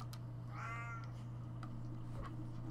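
A cat meows once, a clear rising-falling cry over a steady electrical hum, with a few faint clicks afterward.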